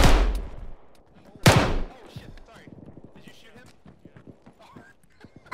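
Arma 3 gunshots: two sharp, loud reports about a second and a half apart, followed by quieter clattering and faint voices.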